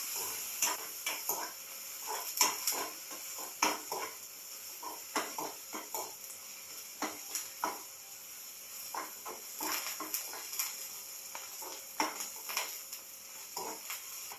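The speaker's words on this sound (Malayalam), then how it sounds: "ഇത് നല്ലോണം ഒന്ന് ഇളക്കി കൊടുക്കുക." Dried chillies, green chillies and crushed ginger stirred in a pan, with a steady series of light metallic scrapes and clinks from a spoon against the pan over a soft hiss, quiet and close.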